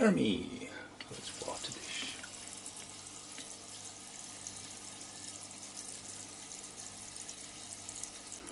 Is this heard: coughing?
no